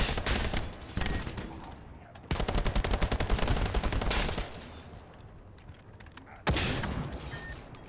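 Rapid automatic gunfire from the video game The First Descendant comes in several loud bursts separated by short pauses, with sharp clicks and mechanical rattles between the volleys.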